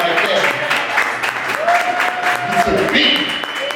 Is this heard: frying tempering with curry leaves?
no